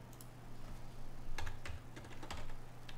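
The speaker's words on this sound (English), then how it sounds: "I'm going to type that in." Fingers type on a computer keyboard in a quiet room, soft scattered keystrokes with a few sharper clicks over a low hum, faint and close.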